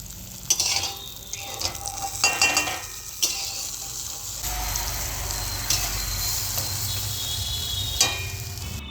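Freshly fried nakshi pitha, a decorated rice-flour cake, splash into sugar syrup and get stirred, giving a steady bubbling sizzle with scattered clinks and scrapes of a utensil against the pan.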